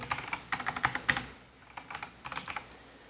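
Typing on a computer keyboard while writing meeting notes: rapid clusters of light, close key clicks in irregular bursts with brief pauses between them, alone and without talk.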